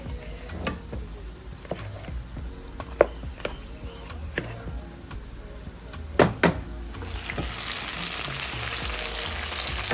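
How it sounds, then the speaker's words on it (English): Plantain (dodo) frying and asun sautéing in a home kitchen: a steady sizzle throughout, broken by sharp clacks and knocks of utensils, growing louder and hissier toward the end. "I'm pretty frying my dodo here, but I'm pretty much doing, and I'm sauteing the asun"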